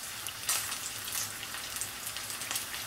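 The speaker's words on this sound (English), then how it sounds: "See how it's starting to pick up a boil?" Lemon-juice pan liquid left from slow-cooked carnitas heats toward a boil over high heat, giving a steady soft hiss and crackle with faint bubbling pops, close by and without talk.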